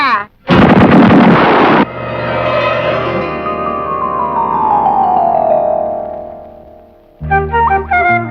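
Coconut bombs going off in a Telugu comedy film: a sharp, loud burst, then a long falling whistle over a low rumble, and a further cluster of loud pops and bangs at the end.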